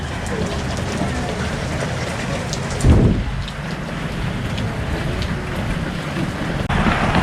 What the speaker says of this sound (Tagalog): Lumakas pa ulan.